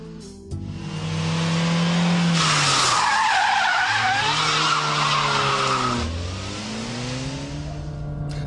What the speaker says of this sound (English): yank the handbrake, the rear wheels will lock as the back end slides round